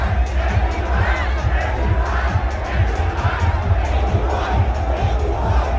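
A large stadium crowd in Delhi shouting in unison, a dense continuous roar of many voices with rhythmic chant-like pulses, loud and close throughout.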